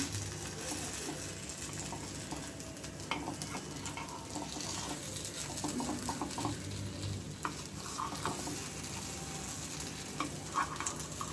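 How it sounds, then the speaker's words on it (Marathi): Appe (paniyaram) frying in oil in a pan while being flipped one by one, a continuous soft sizzle broken by small clicks and scrapes from turning them, close and moderately quiet. "आप्पे पलटायचे चालू करा. आप्पे पलटून घेऊया."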